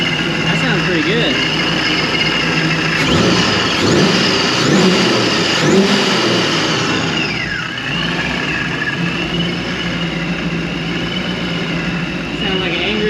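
The supercharged engine of a 1963 Ford F100 unibody pickup, running lean, idles and revs in a nearby shop with a gruff, rising and falling roar that settles back to a steady idle, while people talk over it.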